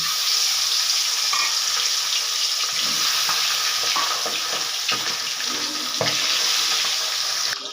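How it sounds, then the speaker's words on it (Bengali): Pabda fish frying in hot oil in a wok, a loud, dense, continuous sizzle close up with occasional crackles and light clatter, no voices. "তেল গরম হয়ে গেছে, এবারে আমি মাছগুলো ভেজে নেব"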